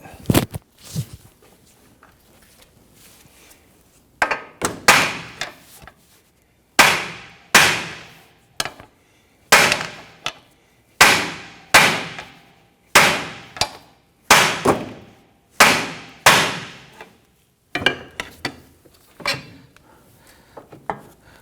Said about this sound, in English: I'm going to strike the knuckle to release that ball joint.